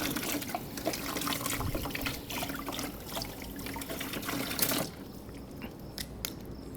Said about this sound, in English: Using a garden hose,